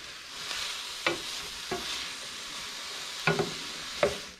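Mushrooms and onions frying in a pan with salt for a risotto, a steady soft sizzle broken by a few sharp clatters of stirring, with no talking.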